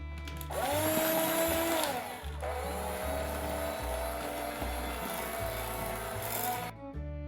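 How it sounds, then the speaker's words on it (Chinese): Electric egg beater whirring through cream cheese batter as eggs and a yolk are worked in, a steady motor drone with shifting pitch and a brief pause and restart midway, close and loud. "就可以用打蛋器再搅打均匀，然后分次加入2个鸡蛋和1个蛋黄"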